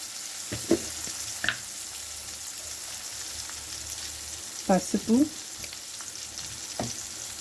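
Onions, tomato and turmeric sautéing in a pan for egg omelet curry, a steady close sizzle with occasional stirring scrapes and brief clinks, a voice faintly present in the background.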